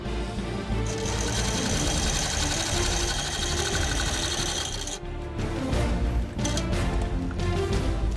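An industrial corner sewing machine stitches the curved end of a luxury bag being remade into a clutch, running fast and steady with a loud continuous mechanical whir that pauses briefly before stitching resumes in short uneven bursts.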